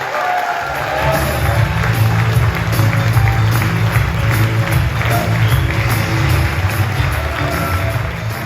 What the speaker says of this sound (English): give a huge round of applause for the host of this year's summit, Ryan Tierney from Seek Mountain.